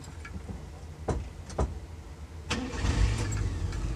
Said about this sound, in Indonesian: saya pengen nyoba suaranya ya suaranya mesin